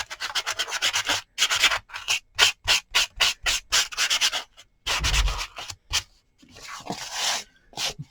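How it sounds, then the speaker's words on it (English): Sanding block rubs back and forth over a surface in quick, rhythmic scratchy strokes, close and steady, with short pauses and a longer burst of sanding near the end. "I think I'm going to have to break down and dig out another sanding block"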